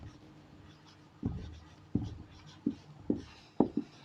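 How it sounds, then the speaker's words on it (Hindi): A pen or pencil scratches on paper in a maths class, making several soft, close strokes and taps spaced about half a second apart over a quiet room hum. "लिखेंगे"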